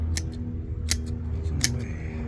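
A handheld cutter snips through PVC sprinkler pipe and small roots in an inground sprinkler repair, giving three sharp, close cuts spaced across a low background hum.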